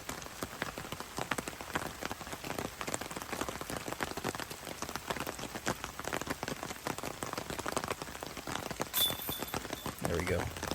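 Steady rain falls and patters across an outdoor disc golf course during a tournament round, a dense, even hiss throughout with voices mixed in.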